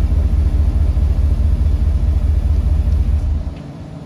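A car engine idling with a steady low rumble, close and loud, then cutting off near the end.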